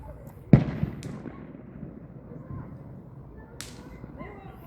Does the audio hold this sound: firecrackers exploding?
yes